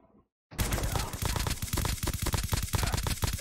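Rapid automatic gunfire from Call of Duty Mobile starts abruptly after a short silence, firing in dense, loud bursts that continue steadily to the end.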